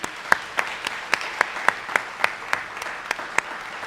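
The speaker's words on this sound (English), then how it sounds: "How about one more round of applause for all of our honorees tonight?" An audience at the Cedar Valley Tourism Awards applauds the honorees, with dense steady clapping and a few sharp, closer claps standing out at a regular beat, loud and unbroken for nearly four seconds.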